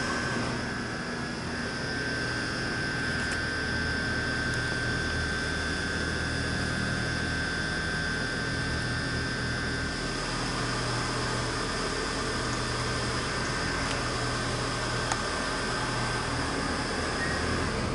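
Hydraulic freight elevator machinery from Kone/MCE at a shopping mall in King of Prussia runs as a steady, loud mechanical hum with a constant whine, unbroken for the whole stretch with no talking.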